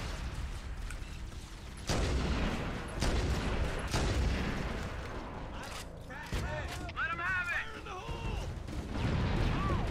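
Covenant stationary shade turret gunfire in the Halo video game, sustained loud bursts of fire and crashes with explosive impacts, with a voice talking over the action.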